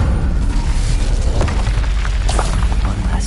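An Incendio fire spell blasts in Hogwarts Legacy, a loud, continuous roaring whoosh with scattered crackling bursts, full and close throughout.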